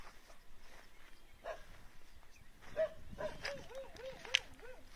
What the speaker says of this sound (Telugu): ఒక కుక్క అయితే పదే పదే అరుస్తూనే ఉంది